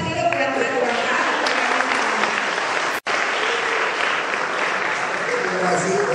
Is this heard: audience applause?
yes